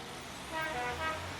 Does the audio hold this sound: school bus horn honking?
yes